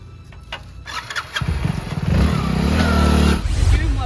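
A Honda motorbike engine starts up nearby and settles into a loud, steady running rumble, preceded by a few brief clicks and knocks.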